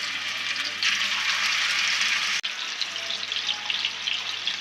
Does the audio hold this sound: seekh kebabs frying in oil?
yes